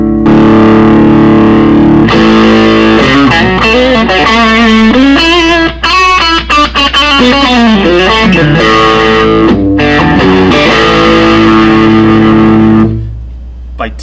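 A distorted electric guitar played through a Boss Katana 100 amp, sustained gritty chords and bending lead lines for most of the stretch, loud and up close, then cuts off near the end.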